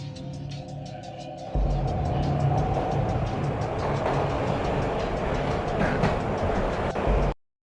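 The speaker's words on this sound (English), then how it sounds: "This was my second train ride of the night." A train ride from the video game Max Payne: a quieter rolling start gives way to a loud, steady rumble of wheels and rattling carriage, with faint ticking clicks, before cutting off abruptly.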